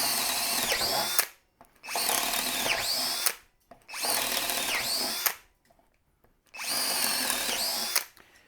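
A Harbor Freight Hercules power drill bores with a 1/2 inch twist bit in four loud bursts of about a second and a half each. Each burst has a whining motor and biting cut, and short silences separate them.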